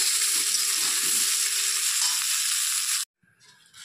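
Cauliflower and potatoes frying in oil in a pan, a loud continuous sizzle that cuts off abruptly near the end, followed by quieter faint crackling.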